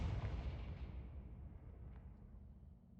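A Confringo blasting curse detonates in Hogwarts Legacy, a loud deep boom with a rumbling tail that slowly fades over a few seconds, heard alone without talk.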